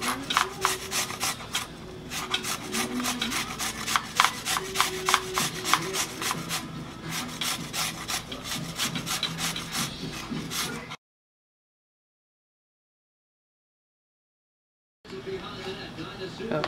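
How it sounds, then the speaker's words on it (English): Carrots are grated by hand on a box grater, fast rhythmic rasping strokes close up for about eleven seconds, then a pause of silence before the scraping starts again. "So I'm just going to use this side of the grater to grate the carrots."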